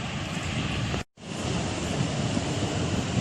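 Rough sea waves at Bouznika beach in Morocco, a loud continuous roar of surf and wind with a brief dropout about a second in, no voices.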